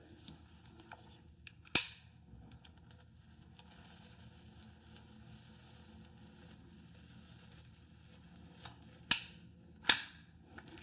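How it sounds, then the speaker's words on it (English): A caulk gun loaded with a caulk tube for shower corners has its trigger pulled, giving three sharp isolated clicks, one early and two close together near the end, in a quiet room. "put your caulk tube in, tighten it up, and then you will just pull the trigger"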